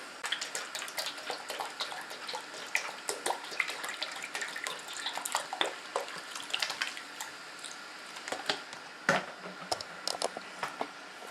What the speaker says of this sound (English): So I'll just top that with some water.